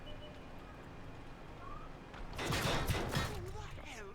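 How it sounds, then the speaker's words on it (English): Artillery firing in World of Tanks, a burst of several loud, rapid blasts partway through over a low rumbling battle background. "That's that artillery up there."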